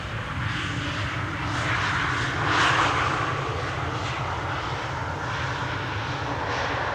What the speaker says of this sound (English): The E2 Embraer 195. If you hear the Wookiee howl, it's either this airplane type or the E2 coming next.